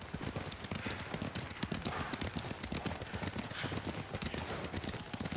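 Horse hooves clip-clop steadily and close by in the Ghost of Tsushima video game, a dense run of regular, rhythmic strikes heard alone for about five seconds.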